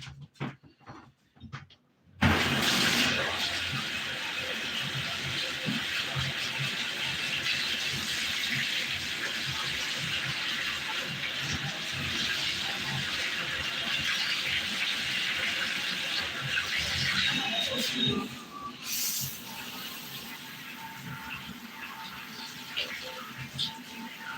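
Water from a tap runs steadily as hair dye is rinsed out, a constant close hiss that fills most of the clip after a few seconds of quiet handling noises.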